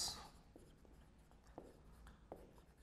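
Tally bars written by hand during a classroom economics lesson: a handful of faint, separate short strokes spaced unevenly over quiet room tone, opening with a brief higher scratch.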